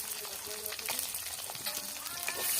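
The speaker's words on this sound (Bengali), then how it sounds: "পেঁয়াজটা ভেজে নিই।" Onions sizzle and fry in hot oil left from shallow-frying fish, a steady crackling hiss with scattered pops, close and fairly quiet, with no talking.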